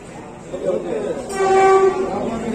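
Train sounds at Angul railway station in India, with a steady low rumble and a brief horn-like tone rising midway, heard under talk and platform bustle.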